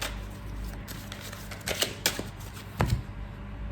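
Tarot cards shuffled for a reading, quick papery riffles and taps in short bursts, close and crisp over a faint steady background hiss.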